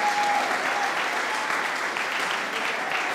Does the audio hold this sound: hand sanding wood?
no